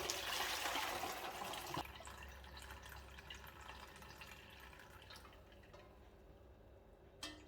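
Fermented raspberry soda pours through a strainer into a bottle, a splashing gush at first that thins into a quieter trickle and scattered drips, ending with a small clink.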